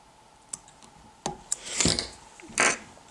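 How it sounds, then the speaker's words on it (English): Small scissors snip tying thread on a Letort Hopper fly, heard up close as a few sharp clicks followed by two longer, rasping cuts, with no one speaking. "you can trim your thread"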